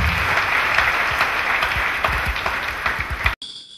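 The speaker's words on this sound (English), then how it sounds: "Clap for Lord Jesus Christ." A church congregation applauds steadily, dense clapping from many hands filling a room, cutting off abruptly at the end.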